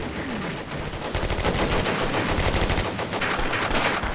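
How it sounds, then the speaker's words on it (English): Soldiers fight in the video game Combat Mission: Beyond Overlord, with loud, dense machine-gun bursts and rifle shots rattling in rapid succession throughout. "Yeah, so they're shooting"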